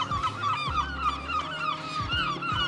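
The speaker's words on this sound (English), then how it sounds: "Lots of seagulls about." Several gulls call on the coast, a run of loud, harsh, honking cries repeated close by in quick succession.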